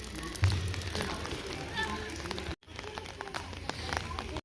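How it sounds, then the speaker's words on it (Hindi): Light rain falls steadily outdoors, a soft, even hiss of drops that stays faint and continuous, with a brief dropout partway through. "बारिश लगी है हल्की हल्की।"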